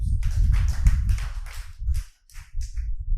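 A group of students clapping in a classroom, a loud burst of rapid, uneven hand claps that thins into a few scattered claps before picking up again.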